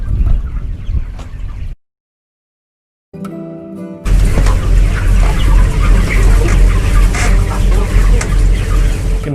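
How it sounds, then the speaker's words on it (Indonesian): A dense crowd of one-month-old broiler chickens weighing 1.5 to 1.8 kg clucks continuously on a poultry farm. The noise is loud and close, with a short silent break before the flock chatter resumes at full strength. "Di belakang saya ini ada ayam-ayam yang sudah berumur sekitar 1 bulan"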